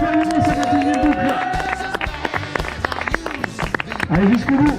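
Spectators clap and cheer for a runner completing his 21st loop at a family backyard ultra race in Saint-Fiacre, scattered hand claps popping over crowd chatter while someone speaks loudly near the microphone.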